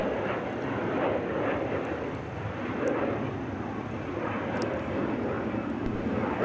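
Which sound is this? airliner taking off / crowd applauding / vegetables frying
airliner taking off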